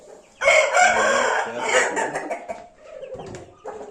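An Indian game rooster crows loudly up close in one long, strained call, followed by a few softer clucks and a short second burst near the end.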